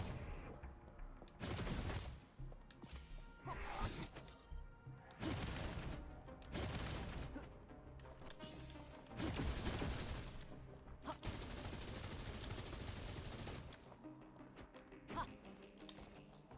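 Gunfire in Honkai Impact 3rd: repeated bursts of rapid shots and impacts, coming in clusters with short gaps between them, moderately loud over game background sound.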